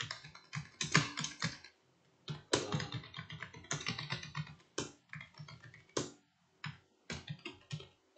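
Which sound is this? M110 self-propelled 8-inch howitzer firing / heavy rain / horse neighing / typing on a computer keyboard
typing on a computer keyboard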